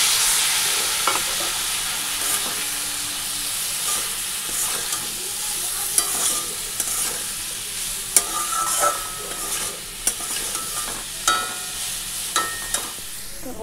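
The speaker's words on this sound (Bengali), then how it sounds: "তো এই যে আলু, পেঁপে আর সোয়াবিন দিয়ে এটি কষিয়ে নিলাম।" Potato, papaya and soybean curry being stir-fried in a pan with ground cumin, a steady loud sizzle with repeated scraping and clacking of a spatula against the pan throughout.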